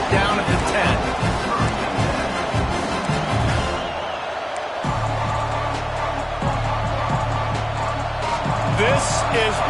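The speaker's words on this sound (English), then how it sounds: "This crowd ready to make its presence known." A packed Ohio football stadium crowd roars steadily throughout, a dense wall of cheering and noise with a brief dip midway, while a commentator's voice talks over it.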